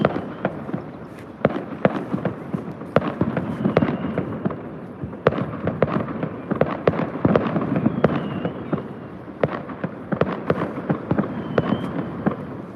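Fireworks popping and cracking repeatedly at a distance in China, irregular bursts scattered over a steady background hum, with no talking.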